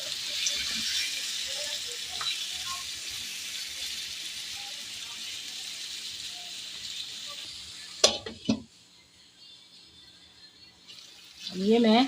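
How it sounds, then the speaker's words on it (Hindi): Sliced potatoes fry in a pan with a steady, close sizzle. A few sharp splashing bursts follow as about half a cup of water goes in, and the hiss then dies down to a quieter simmer. "तो अब मैं इसमें आधा कप तकरीबन पानी डालूंगी"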